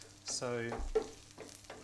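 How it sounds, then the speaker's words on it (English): Chorizo and herbs sizzle in a pan as a bed for mackerel, a soft steady frying hiss running beneath a man's brief spoken word. "So with that sizzling away"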